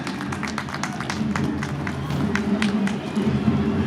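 Crowd at a marathon prize distribution during a Mahashivratri festival in India claps and cheers, steady scattered applause with voices talking underneath throughout.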